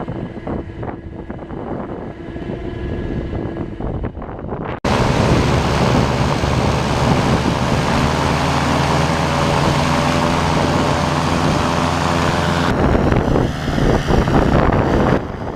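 A Streak Shadow light aircraft engine runs on the ground on a cold, windy day, a steady loud drone thickly buffeted by wind noise across the microphone, rising sharply after a few seconds and holding.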